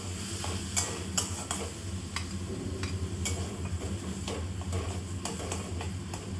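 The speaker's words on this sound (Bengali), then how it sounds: "এবার মাছগুলোকে আমি যেই কড়ার উপরে পেঁয়াজগুলো ভাজা হয়েছিল সেই কড়াতেই আমি দিয়ে দিলাম, দিয়ে ভালো করে একটু উল্টে পাল্টে ভেজে নেব।" Fish pieces fry in a kadai that still holds the oil from browning onions, with a steady sizzle and repeated scraping stirs and clinks of the spoon against the pan, close and continuous, no talk.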